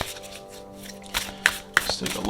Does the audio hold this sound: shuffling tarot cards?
yes